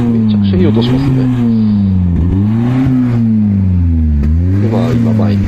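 An old Nissan S110 Gazelle's engine revs repeatedly outside, rising and falling in several loud, close swells with a throaty exhaust note.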